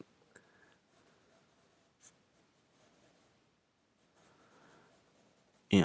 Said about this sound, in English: So I'm just kind of sketching nice and light, right?